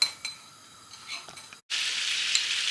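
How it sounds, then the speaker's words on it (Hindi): Butter heats in a pan while desi-style pasta is made. Faint clinks and stirring come first, then a brief pause, then a steady, loud sizzle. "बटर हमारा मेल्ट हो गया है ऑलमोस्ट।"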